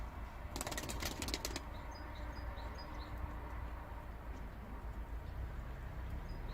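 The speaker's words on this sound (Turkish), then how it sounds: "Evet altına kuşlar açıldı." A flock of released Süper Beyaz Perçemli pigeons takes off in a burst of flapping wings lasting about a second, then fades against a steady outdoor background rumble.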